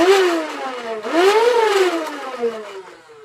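Motors of a modded Nerf Rivals Khaos blaster revving up to a high whine, dipping briefly, then spinning up again and winding down, close and loud.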